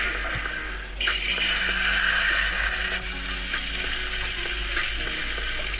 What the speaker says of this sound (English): We let it stir on the pan for about 2 minutes.